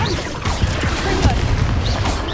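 A Confringo fire-blast spell goes off in Hogwarts Legacy, several thumping booms and crashing impacts in quick succession amid a busy fight. Faint voices can be heard in the mix.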